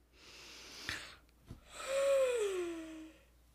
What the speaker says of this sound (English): I can't believe I yawned.